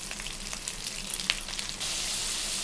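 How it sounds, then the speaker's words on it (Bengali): Cumin seeds, dried red chilli and a bay leaf sizzle in oil left from frying crab, a steady close crackle with a few sharper pops, turning to a denser, even hiss near the end. "সেই কাঁকড়া মাছের তেলে আমি জিরে আর শুকনো লঙ্কা ছেড়ে দিয়েছি আর একটা তেজপাতা"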